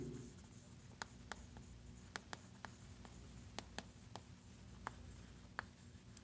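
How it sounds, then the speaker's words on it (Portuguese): A teacher writes on a board during an arithmetic lesson, making faint scratching strokes punctuated by a dozen or so sharp little taps in an irregular rhythm, with no one speaking. "Vou escrever isso aqui."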